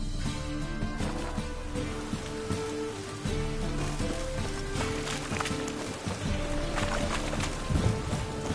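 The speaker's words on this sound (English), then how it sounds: "Rain, I like rain." Steady rain patters across surfaces in The Witcher 3, mixed with soft game ambient music and occasional clicks, continuous and moderately quiet.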